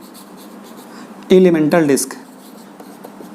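Writing on a board during a physics lesson makes a brief scratchy stroke sound against a quiet room, overlapping a short spoken word from the teacher.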